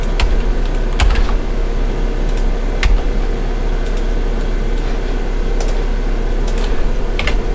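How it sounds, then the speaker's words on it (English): Scattered computer keyboard keystrokes clicking during 3D modelling work in Cinema 4D, a few sharp taps spread over a steady low background hum. "hit C on the keyboard to make it editable."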